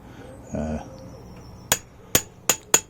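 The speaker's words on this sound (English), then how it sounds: "I've just got a tiny little toffee hammer" Four crisp metallic taps from a small toffee hammer on a motorcycle steering stem extension piece, spaced unevenly after a brief low rumble, close and fairly loud against a quiet background.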